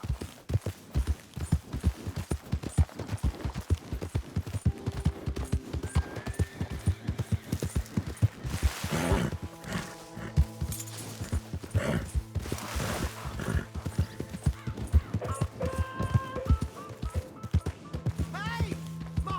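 Horse hooves clop rapidly and steadily through a Red Dead Redemption 2 gallop, close and loud, alongside music and someone shouting.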